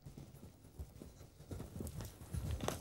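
Horse hooves on ground during show jumping training, a soft irregular clip-clop of strides close by, fairly faint with no talk.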